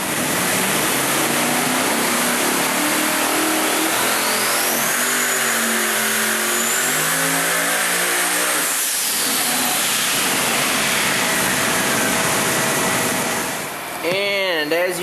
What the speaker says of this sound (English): Big Block Chevrolet.